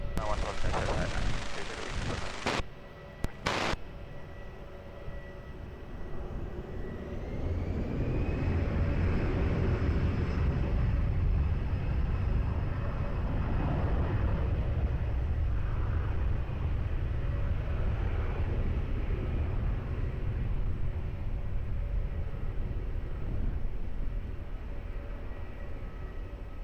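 After a few sharp clicks and brief radio bursts, an airliner's engines build into a deep, sustained roar on takeoff from runway 20 at Lisbon Airport, loud and steady through the rest of the stretch.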